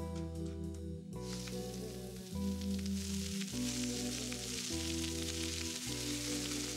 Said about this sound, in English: While the onions are softening